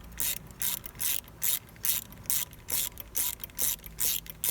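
Ratchet wrench tightening brake caliper bolts on a Honda NHX110 scooter, a steady run of close, loud rapid clicking bursts repeating in an even back-and-forth rhythm with no talking.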